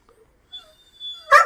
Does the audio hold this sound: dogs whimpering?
yes